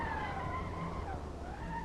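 A race car's engine note in Assetto Corsa rises and falls in pitch over a couple of seconds, a faint synthetic whine from the racing game with no talking.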